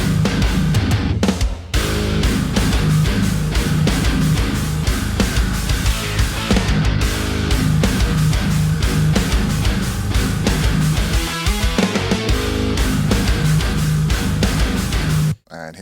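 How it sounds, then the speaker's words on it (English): Two heavily distorted electric guitars and a MIDI bass play a dense, loud metal riff as writing-template playback, with driving chugs and a brief drop near the start and again right at the end. "just 2 guitars, MIDI bass"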